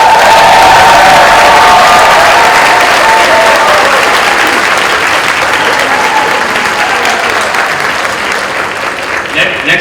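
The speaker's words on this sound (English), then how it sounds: "let's give him a big round of applause" Sustained, loud audience applause fills a Washington DC KCSC gala hall, steady dense clapping from a large crowd that tapers slightly toward the end, with no speech over it.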